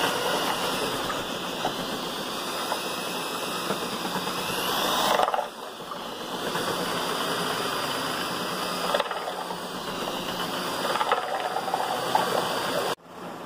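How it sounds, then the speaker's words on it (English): Homemade laundry soap mixture being churned steadily, making a continuous scraping, grinding stir that dips briefly around the middle and cuts off near the end, with no talking. "all you want to do is just mix it up till you get a good consistency of it"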